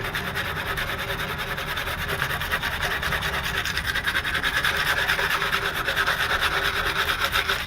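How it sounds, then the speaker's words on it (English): 100-grit sandpaper scrubs off leftover undercoating residue in fast, steady back-and-forth strokes, making a close, continuous gritty rasp. "I'm going back with it with the 100 grit."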